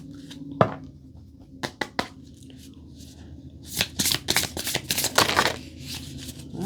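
A deck of cards is handled and shuffled, starting with a few isolated slaps and snaps, then a rapid flurry of riffling clicks, close and moderately loud with no speech.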